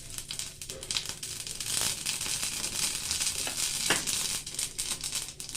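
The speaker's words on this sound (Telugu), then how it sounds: "ఆయిల్ కాగిన తర్వాత కొంచెం ఆవాలు వేసుకుందామండి" Mustard seeds spitting and crackling in hot oil in a kadai, a dense continuous sizzle with scattered sharp pops throughout, close and steady with no talking.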